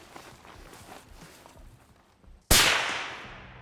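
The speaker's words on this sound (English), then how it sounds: "So we're gonna see how much it reduces the noise" Single sharp gunshot from a suppressed Thompson/Center Encore rifle firing pointed soft point rounds, a loud crack with a decaying tail after a stretch of quiet, faint rustling outdoor background.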